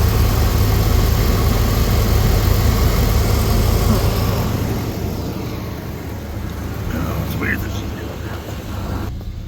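A 1971 Cadillac Sedan Deville, freshly fitted with a new fuel pump, runs with a loud, steady engine rumble close by that eases slightly partway through, while someone talks over it.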